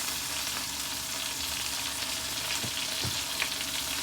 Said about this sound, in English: we're going to let these keep frying in the grapeseed olive oil